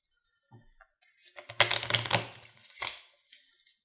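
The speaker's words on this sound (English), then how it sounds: "Need to shuffle my cards real quick" Playing cards being shuffled during a tabletop game of Dominion, with a few light taps followed by a dense riffling burst and a shorter flutter, close up and without speech.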